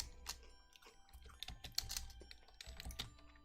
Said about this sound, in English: So typing, not reading.